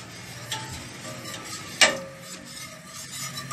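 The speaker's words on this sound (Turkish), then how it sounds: "Karıştırarak pişiriyorum." Cream stirred as it cooks in a pot: soft repeated scraping and rattling of a utensil against the pot, with one sharper knock.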